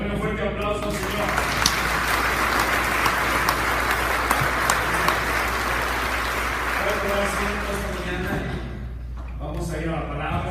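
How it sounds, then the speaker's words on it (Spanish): A church congregation applauds during a Spanish-language service, sustained loud clapping from many people over a low hum, with voices and singing-like tones at the start and end. "démosle un fuerte aplauso, Señor."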